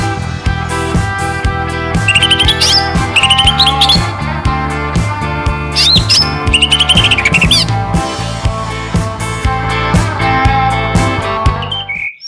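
A caged green leafbird (cucak ijo) sings loudly and continuously in a songbird contest setting, a dense run of high chirps, whistles and trills over a steady low rhythmic backing that runs throughout.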